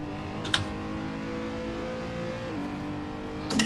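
A racing car engine in a sim racing game at Mugello revs hard and climbs through the gears, with a shift partway through and a bright, constant drone.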